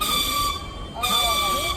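A rail car rumbles along the tracks with high, whining wheel tones, briefly quieter midway before the drone returns.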